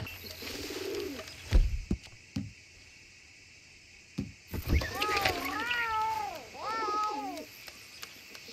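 Cat meowing in the video game Red Dead Redemption, several drawn-out, rising and falling meows in a row, fairly close and clear, following a few soft thumps and faint ambient game sounds.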